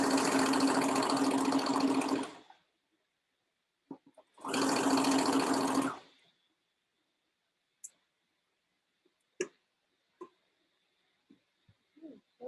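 Two sustained bursts of a sewing machine stitching fabric for a boy's dress shirt, each lasting a couple of seconds, followed by scattered small clicks and taps.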